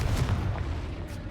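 The Confringo explosive spell in Hogwarts Legacy goes off as a brief, deep, rumbling boom that holds steady across a second and then fades slightly.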